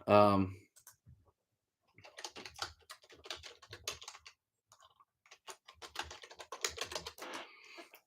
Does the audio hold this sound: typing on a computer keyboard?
yes